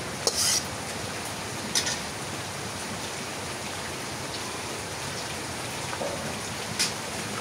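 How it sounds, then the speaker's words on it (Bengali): Steady rain falls outside on a wet day, coming and going in spells, a soft continuous patter filling the whole stretch with a few brief louder ticks and no voices. "বৃষ্টি একবার থামতেছে একবার আসতেছে, এরকম করে বৃষ্টি হইতেছে"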